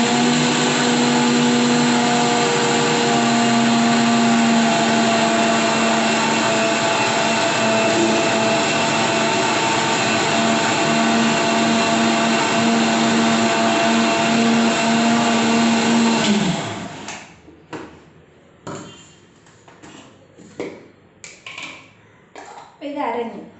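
A kitchen mixer grinder whirs loudly and continuously as it grinds ingredients to a paste, its steady motor drone running for about seventeen seconds before cutting off abruptly, followed by quieter clattering and handling noises.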